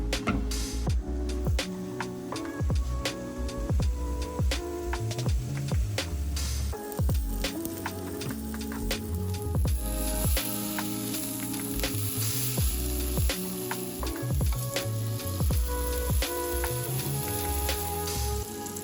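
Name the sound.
Japanese A5 Wagyu steak searing in a pan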